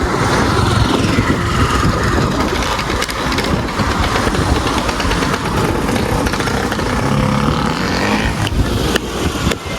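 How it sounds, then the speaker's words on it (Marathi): A Sri Lankan auto rickshaw engine runs loud and steady for the whole stretch on a busy street lined with Toyota and Nissan cars, its buzzing drone blending with the surrounding traffic noise. "श्रीलंकन ऑटो रिक्षा आहे"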